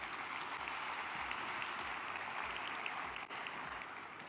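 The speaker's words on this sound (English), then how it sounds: "I think that deserves another round of applause." Steady applause from a crowd, a dense wash of clapping that holds evenly throughout, heard from a little distance.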